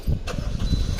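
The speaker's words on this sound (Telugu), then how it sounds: "ఒకసారి ఇంజన్ స్టార్ట్ చేసే సౌండ్ వినిపిస్తాను సార్ మీకు" A petrol 2017 Maruti Celerio VXI automatic engine cranks and catches in a short close burst, with repeated low pulses settling toward idle.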